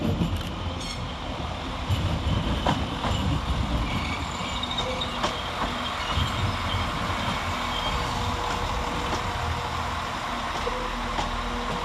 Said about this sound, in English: Arriving next to terminate with a northern service off Warrington Central is 195110.